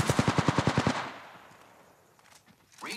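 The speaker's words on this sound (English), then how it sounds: "I'm taking fire, friends." Rapid automatic gunfire in the video game Apex Legends, a burst of about nine close, loud shots in quick rhythm that cuts off and leaves a fading echo and faint game noise.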